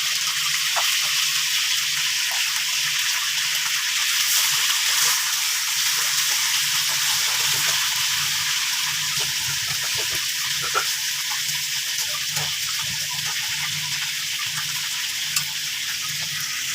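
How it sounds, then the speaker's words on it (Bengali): Chicken frying in hot oil until crisp, a loud continuous sizzle close up with occasional stirring clicks and pops. "ভালো করে মোচমোচা করে ভেজে নিতে হবে সুন্দর করে"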